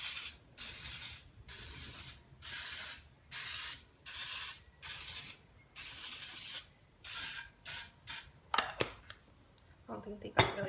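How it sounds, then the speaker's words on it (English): Cooking spray hisses onto a pan in about ten short, even bursts, then a few light clinks and scrapes of metal near the end. "The first thing I'm going to do is spray my pan."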